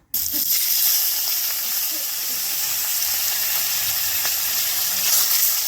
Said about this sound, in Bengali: তেল গরম হয়ে গেছে এখন মাছটা দাও